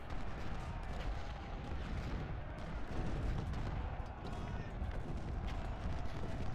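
Artillery and rifle fire in the Civil War battle game Ultimate General: Civil War, a continuous low rumble of massed gunfire and booms rolling on without break, loud and dense.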